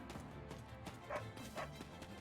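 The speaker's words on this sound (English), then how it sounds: "Bark, bark." A dog in the video game Fire Emblem Three Hopes gives two short, faint yipping barks about half a second apart over a low, steady game background.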